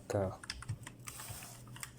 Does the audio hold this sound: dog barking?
no